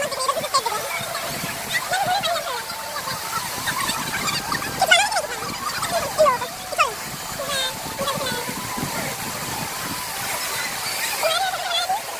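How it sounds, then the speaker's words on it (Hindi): A jungle waterfall at Siruvani, Coimbatore, roaring as a constant wash of falling water with splashing, while someone talks over it and faint bird calls come and go. "चारों तरफ से जंगल है और बीच में है ये वाटरफॉल"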